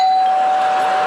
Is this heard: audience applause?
no